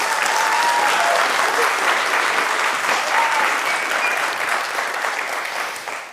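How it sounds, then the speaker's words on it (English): An audience at a conference presentation applauds steadily, dense clapping filling about six seconds before starting to thin out at the end. "I would like to ask you for an extra hand of applause"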